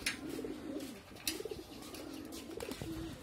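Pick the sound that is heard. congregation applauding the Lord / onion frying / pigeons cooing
pigeons cooing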